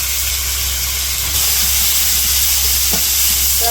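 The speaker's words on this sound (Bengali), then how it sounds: "মশলা তো কষে নিচ্ছি" Spice paste of ginger-garlic, turmeric, chili and garam masala frying in oil for a village-style chicken curry, a steady close hiss and sizzle throughout with a brief scrape of stirring near the end.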